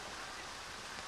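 Steady rain falls on an outdoor field during a girls high school soccer game, a constant broadband hiss filling the whole moment without breaks.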